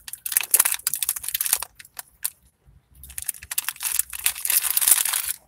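Blue raspberry Ring Pop hard candy being chewed and crunched right at the mouth, dense crackling crunches in two bursts with a short quiet pause between, no talk.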